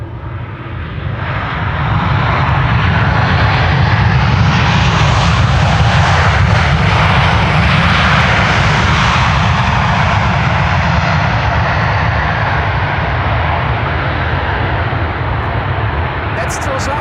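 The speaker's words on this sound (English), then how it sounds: "That's Transavia also using their reversers." Transavia Airbus A321neo from Naples landing at Amsterdam Schiphol and deploying thrust reversers, a loud sustained jet roar that rises within two seconds and holds steady, heavy and broadband.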